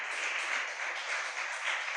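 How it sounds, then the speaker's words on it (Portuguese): A church congregation at a Baptist service claps together in a steady, even patter that fills the room, continuous applause without voices over it. "Você pode aplaudir Jesus?"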